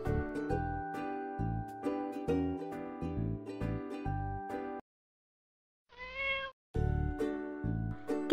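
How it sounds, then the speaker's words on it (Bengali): A domestic cat gives one short meow, close and moderately loud, in a pause between bursts of cheerful plucked background music. "ক্যাট, ক্যাটকে আমরা বাংলায় বলি বিড়াল।"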